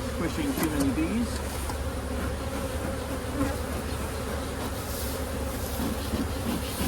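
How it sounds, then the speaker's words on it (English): Honey bees buzzing inside an open hive, a steady close droning hum with shifting wingbeat tones and occasional clicks and knocks of hive handling. "Now we've got a hive full of bees"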